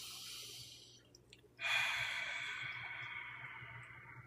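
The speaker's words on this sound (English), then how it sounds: "Now continue breathing." A person takes a slow, deep breath during a guided calming breathing exercise: a soft inhale, then a longer, louder exhale that trails off gradually.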